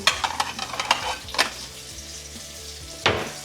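Sweet potato pieces fry in oil in a pan, with a steady sizzle under a run of spatula scrapes and clinks against the pan early on and one more sharp scrape near the end.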